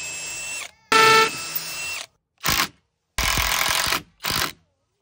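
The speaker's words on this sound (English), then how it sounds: "First hole pre-drilled here." A power drill pre-drills a hole in lumber while a YardLock shed lock is installed: five sharp, loud whirring bursts of a second or less each, separated by short silences, close to the listener.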